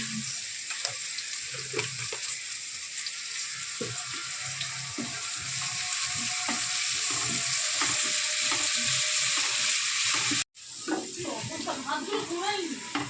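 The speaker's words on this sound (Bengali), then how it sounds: "নেড়ে চেড়ে দেবো এটা বাদামি লাল লাল করে ভেজে নেবো পেঁয়াজটা" Salted onions fry in oil in a pan for a tengra fish curry, a loud steady sizzle with repeated scraping stirs, cut by a brief break before crackling resumes; a voice is faintly present.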